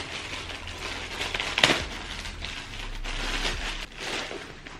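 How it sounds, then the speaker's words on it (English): ASOS delivery packages being unwrapped, with crinkling and rustling of packaging, one sharp tearing crackle near the middle, and low handling thumps, close up and fairly loud. "So I thought I'd just unbox them and kind of unwrap them"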